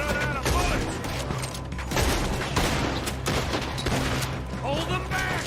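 Gunfire during a shootout in Red Dead Redemption 2, with loud volleys of rifle and pistol shots cracking in clusters amid dense battle noise, plus some whistling and ringing effects near the start and end.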